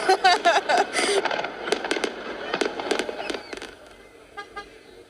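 Fourth of July fireworks show at Mission Beach, San Diego, with a dense volley of sharp bangs and crackles up front, then scattered pops and bursts trailing off, with faint car horns mixed in.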